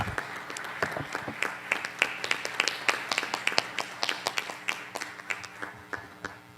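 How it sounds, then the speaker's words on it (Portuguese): A church congregation claps together during a worship service, a dense run of sharp hand claps that stays steady and close throughout with no talking over it. "Vamos aplaudir ao Senhor."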